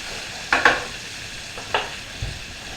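Scallops sear in butter in a French frying pan with slightly raised sides, giving a few soft, brief clatters and light sizzling bursts, quiet and spaced apart, with no one talking.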